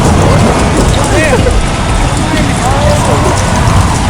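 Rain pours down hard in a steady loud hiss, with rumbling thunder underneath and faint background voices scattered through it.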